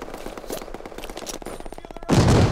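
Rapid gunfire in a first-person shooter team deathmatch, with a burst of quick shots followed by a louder, dense blast of fire near the end.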